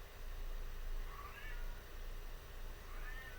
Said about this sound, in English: I apologize in advance if you hear my cat in the background.